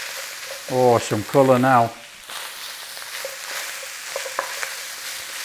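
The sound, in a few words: beef and peppers stir-frying in a pan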